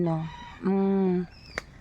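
A rooster crows nearby in a long drawn-out call, followed by a short sharp cluck.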